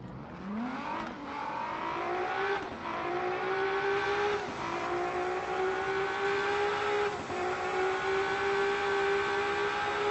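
A video game race car engine revs up and holds a high, steady whine, with several quick gear shifts dipping the pitch before it climbs again; loud and continuous.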